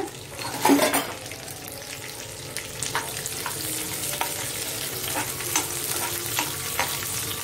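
Green chilli, peanuts and curry leaves fry in hot oil in a pan for mustard rice, a steady close sizzle with a brief louder crackle and stirring clatter near the start.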